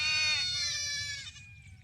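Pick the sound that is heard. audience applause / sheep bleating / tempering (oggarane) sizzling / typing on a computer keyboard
sheep bleating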